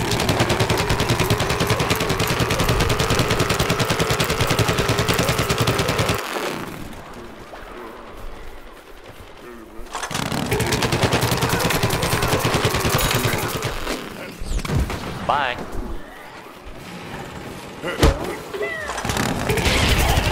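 Sustained rapid shooting in the multiplayer game Plants vs. Zombies, a dense machine-gun-like stream of fire that runs long, pauses briefly, then resumes with scattered bursts and occasional booms.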